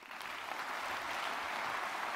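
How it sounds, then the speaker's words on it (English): Audience applause for a futurist keynote speaker at the VINT2014 conference: a steady, moderately quiet wash of clapping from a crowd that lasts about two seconds and is heard alone, with no one speaking. "A big applause for Gerd Leonhard."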